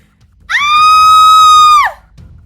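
A loud, sustained high-pitched scream from a woman, holding steady for over a second before cutting off, with quiet background noise around it.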